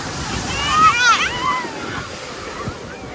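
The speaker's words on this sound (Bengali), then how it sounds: "ঢেউ বিশাল, নিচে এমনি পাথর আছে" Big sea waves washing and splashing at Digha beach over rocks below, a continuous surf roar with swells, while a voice speaks over it.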